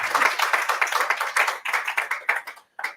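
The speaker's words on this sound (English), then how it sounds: "Please join me in applauding those community engagements." An audience at a closing ceremony applauds, dense rapid clapping held steady for nearly three seconds before stopping briefly and resuming for a final moment.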